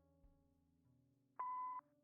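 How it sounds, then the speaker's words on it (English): Voicemail beep in the video game Kathy Rain: a single clean electronic tone lasting under half a second, loud and alone after a faint low hum. "Please leave a message after the beep."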